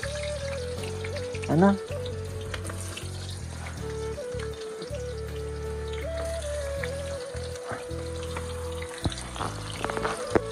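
Onions frying in a pan, a steady bright sizzle and crackle close by, with a stove or fan hum underneath and a few clinks of utensils, while a voice speaks briefly in the background.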